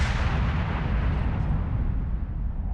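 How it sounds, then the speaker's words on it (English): Battleship main-gun salvo fired in the World of Warships naval combat game at an enemy New Orleans cruiser: a loud, close, heavy blast that rolls into a sustained deep rumble, its crackling top end fading over about three seconds, with no talking. "Going to fire a couple of salvos at the New Orleans"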